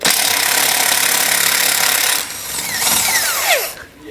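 A power drill with a 1/2 inch bit whirs loudly and steadily, then bites into a 2019 Jeep's frame with rising and falling pitch as it bores through, close up.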